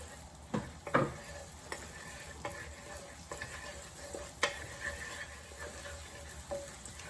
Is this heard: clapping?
no